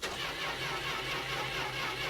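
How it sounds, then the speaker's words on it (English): Car engine cranks over after a key turn in a video game, producing a steady whirring, mid-pitched mechanical churn for a couple of seconds without catching. "All we had left to do was turn the key and start the car."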